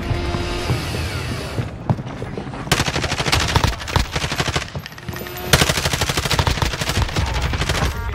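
Rapid bursts of automatic gunfire in a battle royale shooter, loud and close, with repeated volleys separated by short pauses and a few single shots in between.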